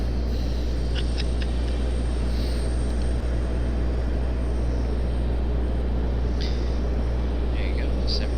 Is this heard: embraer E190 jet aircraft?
yes